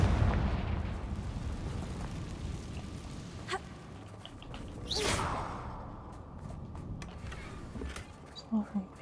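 A Confringo fire spell explodes in Hogwarts Legacy with a sudden whooshing burst and rumbling boom. Game ambience, small crackles and rumbles surround it.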